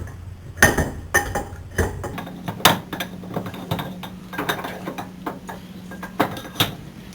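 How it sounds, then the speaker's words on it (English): Metallic clanks and knocks as a brake caliper is fitted onto a motorcycle during a Girodisc lightweight EVO rotor install, a dozen or so irregular sharp hits close by, with no talk. "Brake caliper goes on."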